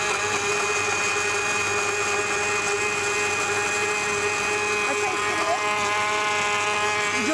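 Electric blender whipping cream in a TV studio kitchen, a loud steady whirring motor drone with a constant tone held throughout, slight pitch shifts near the end.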